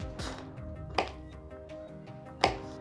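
A knife cuts canned pineapple slices in half on a board, three distinct chopping thuds spaced over a couple of seconds against a low steady hum, close by and with no talk.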